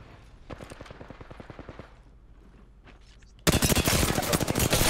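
Rapid automatic gunfire in an online arena shooter match: bursts of close, sharp shots, a quieter stretch with distant pops, then a sudden loud, dense volley filling the end.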